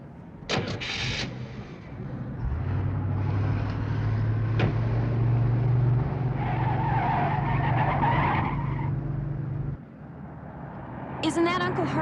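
A car pulls away with its tires skidding and squealing, the engine loud and close for several seconds under shouting voices, then a clatter at the end.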